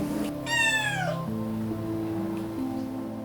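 A mother cat in an animal shelter in Dnipro lets out one clear, drawn-out meow that slides downward in pitch, over a low, steady background hum.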